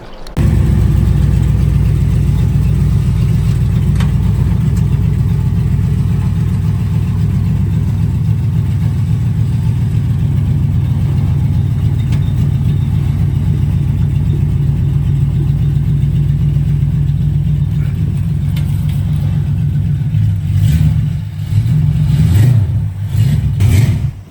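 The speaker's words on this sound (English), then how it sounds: "And pull the car forward." A car runs with a steady, loud engine drone close by, alone with no talk, holding fairly even at idle for most of the stretch before a few uneven revs and dips near the end.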